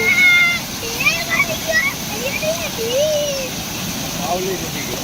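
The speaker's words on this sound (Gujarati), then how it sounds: "આ બોગરિયાણી ગામની નદી અને ભરપૂર પૂર આવી ગયું છે નદીમાં જુઓ" Floodwater rushes through the river at Bogariyani village with a loud, steady roar, while someone talks close by over the churning flow.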